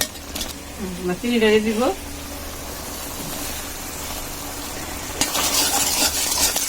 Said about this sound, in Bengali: মা হচ্ছে খুন্তি দিয়ে ভালো করে একটু আনারসগুলো গালিয়ে নিচ্ছে